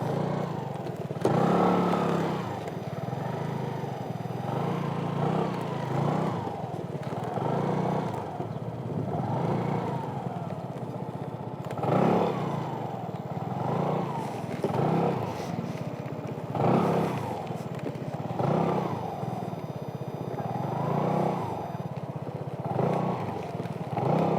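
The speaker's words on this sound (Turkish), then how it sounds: "motosikletle yine parkur denemesi yapıyoruz. Peugeot Django ile." A Peugeot Django scooter runs a test course, its small engine buzzing up and down in repeated rises and falls as it accelerates and slows through the turns, close and steady with no talking.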